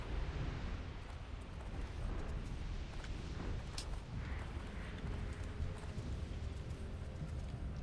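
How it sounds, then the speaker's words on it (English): Explosions boom continuously during a Blackrock eruption event in a video game, a dense, loud, unbroken rumble with scattered sharper bangs layered throughout. "there's fucking explosions going off all over the place here"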